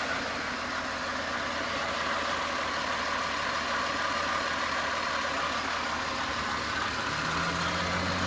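A freshly overhauled Toyota 1FZ-FE engine idles steadily and evenly at close range, a continuous smooth rumble with no breaks and no voices.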